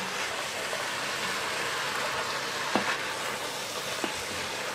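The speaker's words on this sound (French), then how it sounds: "On a fait revenir pendant à peu près 10 minutes avec carotte et oignon." Carrot and onion sauté in a pan for beef bourguignon, giving a steady close sizzle with a couple of faint clinks from stirring and no talking.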